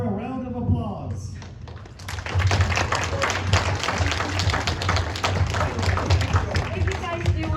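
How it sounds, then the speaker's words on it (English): Audience at a conference in Arizona claps after about two seconds of quieter sound at the start, then keeps up steady, fairly close applause with some talk mixed in. "give it up for a round of applause"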